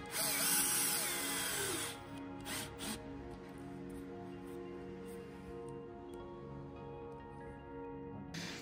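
A 4.5 mm bit drills a hole during boat repair work on a Hallberg-Rassy 312 sailboat. A close, loud power-drill whine comes in short bursts, then eases into a steadier, quieter spinning tone.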